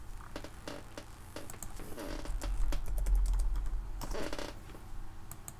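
Typing on a computer keyboard comes through as irregular bursts of clicky keystrokes, close and fairly quiet, with short pauses between flurries.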